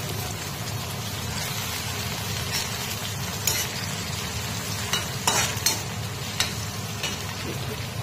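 Chopped onions fry in a pan with a soft, even hiss, broken by a few crisp pops and light clicks of a stirring utensil; fairly quiet and close, with no talking.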